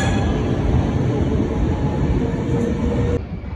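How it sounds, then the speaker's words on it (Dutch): Belgian "pig-nose" train at Rilland-Bath station rumbling steadily close by, a continuous loud rolling roar with a faint high whine, dropping off abruptly near the end. "Belgische varkensneus."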